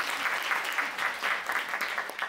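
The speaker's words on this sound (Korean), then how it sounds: "박수 한번 부탁드리겠습니다." Audience applause fills a lecture hall at a Kyobo Bookstore economics talk, steady and dense clapping from a crowd lasting a couple of seconds, moderately loud and close.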